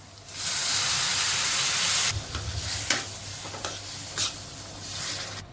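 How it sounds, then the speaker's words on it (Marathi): Hot water hits roasted semolina in a pan while making pineapple sheera, a loud, broad steaming sizzle for about two seconds that settles into quieter stirring and bubbling with a few soft scrapes. "एका वाटी रव्याला दीड वाटी गरम पाणी टाकणार आहोत"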